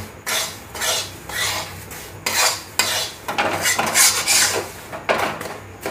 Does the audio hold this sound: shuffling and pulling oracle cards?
no